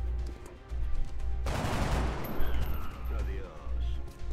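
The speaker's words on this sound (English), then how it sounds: "We'll just take the easy shot on this guy." Gunfire in the X-COM Enemy Within video game, a sudden loud burst of shots followed by a fading rumble and synthetic game effects, standing out clearly over a low background hum.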